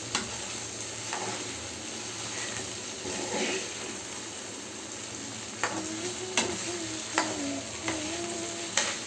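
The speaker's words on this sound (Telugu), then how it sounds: "ఇలా మంచిగా మిక్స్ చేసుకోవాలి కర్రీని." Curry frying in a pan while being stirred, a moderate steady sizzle marked by repeated spoon scrapes and taps against the pan, with faint background noise.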